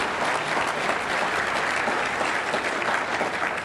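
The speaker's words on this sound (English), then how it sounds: "Big round of applause for Ben Shapiro." Sustained applause from an audience at a book talk in Orange County, a dense steady wash of many hands clapping throughout, loud and even with no break.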